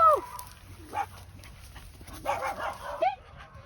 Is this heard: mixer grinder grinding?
no